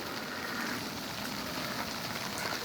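Steady rain falls outdoors during skateboarding, a continuous fine hiss of drops on hard surfaces at an even, moderate level with no gaps.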